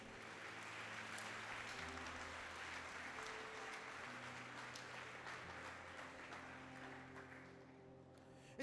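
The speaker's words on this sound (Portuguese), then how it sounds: "Dá um aplauso a Jesus." A church congregation applauding during a worship service, a dense, sustained wash of clapping over held keyboard chords, steady throughout and fading slightly at the end.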